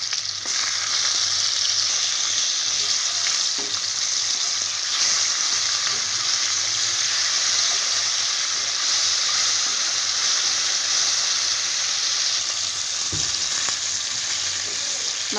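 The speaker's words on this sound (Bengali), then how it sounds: "মাছগুলো একটু ভেজে নেব।" Rohu fish pieces frying in hot oil in a wok, a steady, close, loud sizzle that holds unbroken throughout with a few faint clinks of stirring and no talk.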